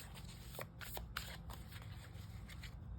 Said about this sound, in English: let's just go ahead and shuffle this deck as well